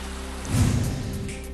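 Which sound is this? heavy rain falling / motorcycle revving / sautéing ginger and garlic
heavy rain falling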